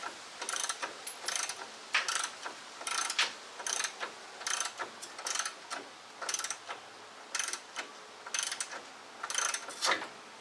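Ratchet wrench loosening a bolt during a Rough Country 2.5-inch front lift install on a Jeep Wrangler TJ, rapid clicking bursts repeating in short quick strokes, close up with no talking.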